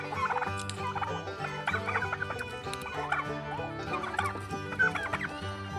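Young heritage turkeys gobbling repeatedly on a farm with clucking fowl mixed in, several birds calling close by in overlapping bursts.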